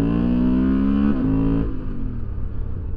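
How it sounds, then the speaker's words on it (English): A Honda Transalp adventure motorcycle on Tusk 2Track tires accelerating at full power, a loud close engine tone climbing steadily in pitch, then a gear change and a rougher, lower drone continuing. "Let's give this thing full power acceleration, 0 to 70 miles an hour, or about 110 kilometers an hour."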